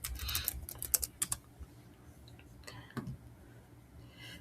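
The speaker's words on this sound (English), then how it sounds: "we're gonna go over here to elements and we're gonna type in Halloween" Keys clatter on a computer keyboard in quick, irregular bursts, loudest in the first second and a half and then sparser and softer, with no voices.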